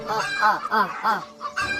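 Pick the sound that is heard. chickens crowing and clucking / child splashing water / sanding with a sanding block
chickens crowing and clucking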